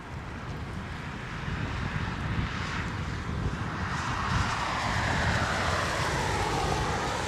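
China Airlines jet taxiing at Anchorage, a loud continuous engine roar with slowly shifting whine and wind buffeting, steady throughout with no voices.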